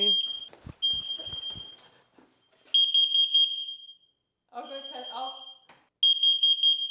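A smoke alarm sounds in long, loud, high-pitched beeps, with pauses between them and brief talking in the gaps.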